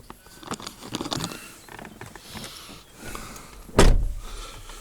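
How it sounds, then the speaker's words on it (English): Range Rover L322 TDV8 door swung and shut with a single solid thud near the end, preceded by faint rustling and mechanical handling sounds close by. "So we shall shut the door."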